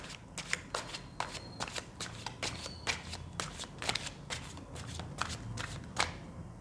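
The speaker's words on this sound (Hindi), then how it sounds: "जब तक मैं कार्ड शफल कर रही हूँ" Tarot cards being shuffled by hand, a steady run of crisp riffling snaps and flutters repeating in quick bursts, close and clear with no talking.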